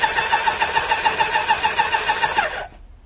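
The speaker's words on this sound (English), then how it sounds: "The more this turns over, the better it starts." A barn-find Kawasaki GPZ900R Ninja motorcycle engine cranks over on the starter in a rapid, even rhythmic churn for about two and a half seconds, then stops abruptly; loud and close, no talking.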